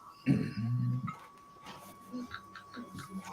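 Dog whimpering and yipping in a home, a burst of loud close whines at the start, then fainter yelps scattered under quiet conversation.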